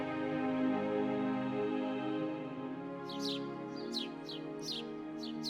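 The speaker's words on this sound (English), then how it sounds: "Early in the morning, the birds were singing outside the cabin" Birds chirp outside a cabin in the mountains early in the morning, a series of short high calls arriving in the second half over a steady background drone.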